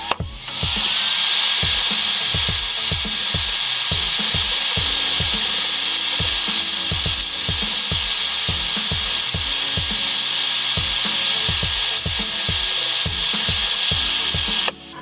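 Kredioo electric nail drill spinning at 7,000 RPM while removing gel polish from a nail tip, a steady high-pitched motor whine that runs the whole time with repeated short scraping bursts as the bit meets the polish, close and fairly loud.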